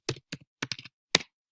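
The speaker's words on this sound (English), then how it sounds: "All you have to do is type in your topic" Several quick, close keystrokes on a computer keyboard in short irregular bursts, crisp and isolated with silence between taps.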